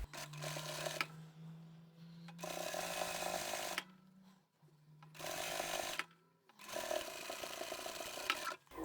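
Sewing machine running in several separate bursts while stitching a gusset seam on a bag made from scrap fabric, each run a close, steady whir, with a low hum and quiet handling between them.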